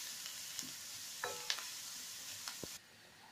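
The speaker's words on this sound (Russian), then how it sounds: "в сковороду наливаю масло, разогреваю и добавляю лук, слегка обжариваю" Onion and carrots fry in oil in a pan with a soft, steady sizzle. A few faint clicks and stirring scrapes break in now and then, and the sizzle stops abruptly near the end.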